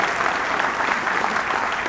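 Sustained audience applause at a live concert of Hawaiian music with hula, dense steady clapping from a sizable crowd throughout, with no talk over it.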